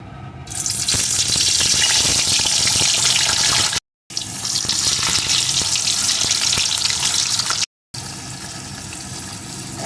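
Paneer pieces frying in white oil in a wok, a loud, steady hiss and crackle that runs almost continuously, broken by two brief silent gaps.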